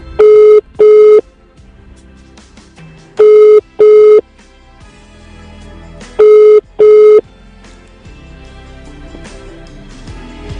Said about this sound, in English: is not answering the phone line